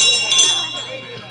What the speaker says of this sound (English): I got to ring the bell.